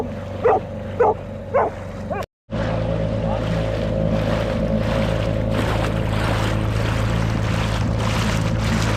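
Small motorboat heading out across an anchorage toward a moored sailboat in Bahia Concepcion, a loud, steady outboard engine drone with water noise, preceded by a few dog barks and a brief drop-out.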